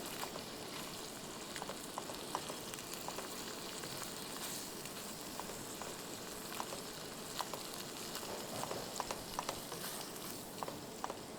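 Chana dal roasts in ghee in a pan for chana dal halwa, giving a steady, even sizzle dotted with small crackles and pops. It continues unbroken throughout, fairly quiet, with no talking.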